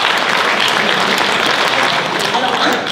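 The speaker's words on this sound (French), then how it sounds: "on peut les applaudir parce qu'ils sont venus jusque-là" Audience at a round-table event on mountain species genetics applauds two guests, dense even clapping sustained for the whole few seconds with faint voices underneath.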